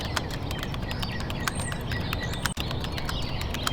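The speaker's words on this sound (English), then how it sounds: "focus all of your attention on the sounds of the birds" Dense, quiet chirping from many birds, with rapid short calls overlapping continuously against a soft outdoor background.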